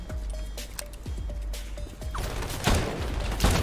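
A video game firefight: a string of sharp, crisp gunshots snaps out in quick bursts, some close together, then heavier, louder blasts near the end, all without talk.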